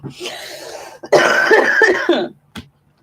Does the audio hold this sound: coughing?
yes